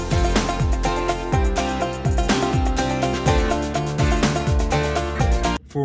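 Halftime drum beat from the chorus of a country song, with steady, punchy kick and snare hits under a full, loud mix of sustained instruments that stops abruptly at the end.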